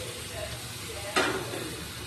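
Fish curry with flat beans and potatoes sizzles in a pan with a low steady frying hiss, and a sudden loud burst of sizzle and steam rises as water is poured in before settling back down.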